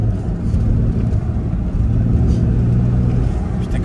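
A tuned BMW 335D diesel with 380 horsepower accelerating hard, a loud, steady low engine roar heard from inside the car with a rising drone throughout, and a voice briefly audible beneath it.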